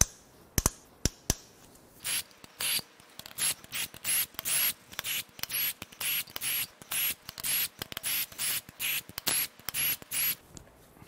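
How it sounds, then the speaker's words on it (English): Valve cover bolts being loosened on a damaged 30,000-mile Mercedes C43 AMG with an M276 bi-turbo V6, heard as a close series of rhythmic, evenly spaced ratcheting bursts after a few sharp clicks, with no talking. "we gotta crack the valve cover bolts loose"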